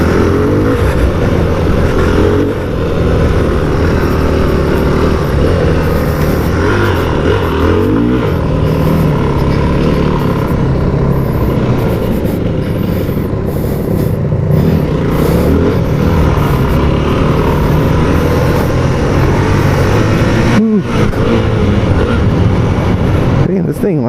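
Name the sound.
Yamaha WR250F dirt bike engine revving while riding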